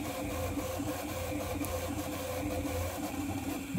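A Prusa MK4 3D printer prints ABS with a steady, continuous mechanical hum and stepper-motor whine, its low droning pulse holding level and close throughout with no voices.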